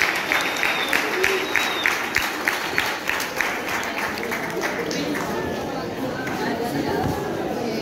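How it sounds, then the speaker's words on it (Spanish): Audience applause at a youth workshop plenary closing session, welcoming the next group to present; dense clapping with a few sharper claps in the first half, then thinning into crowd murmur and voices. "Recibimos con otro aplauso"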